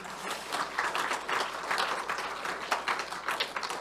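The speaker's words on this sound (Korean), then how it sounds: "잠깐 박수 한번 해볼까요?" A church congregation at a Christmas service clapping for a few seconds, warm steady applause from many hands in an indoor hall.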